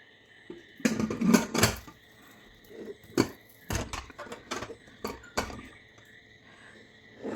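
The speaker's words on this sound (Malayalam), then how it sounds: "കുക്കറിൻ്റെ മൂടിയിട്ട് കൊടുക്കാം." Several metallic clanks and clatters as a pressure cooker lid is fitted and locked over a potato masala curry, irregular knocks with quiet gaps in between, close by.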